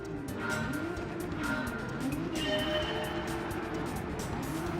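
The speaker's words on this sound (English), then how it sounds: "Unsurprisingly, the car will wheel spin to well over 100 miles per hour, and with the hybrid assistance, over 150 miles per hour" A Nissan GT-R LM Nismo race car in Gran Turismo 7, tuned to 1000 horsepower with hybrid assistance, spins its front wheels on the Circuit de la Sarthe, an engine drone with wavering tyre squeal and wheelspin, moderately loud.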